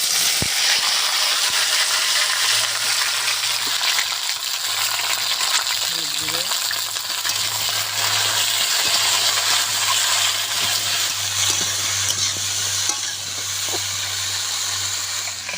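Okra frying in hot mustard oil in a kadai, giving a loud, continuous hiss and crackle close by that holds steady throughout.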